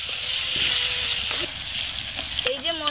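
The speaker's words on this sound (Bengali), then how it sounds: "পরিমাণ মতো হলুদের গুঁড়ো, এইভাবে মশলাটা ভালো করে কষে নেব।" Masala spices with turmeric frying in a pan for a chicken curry, a loud, steady close sizzle throughout, with brief scraping stirs and a faint voice near the end.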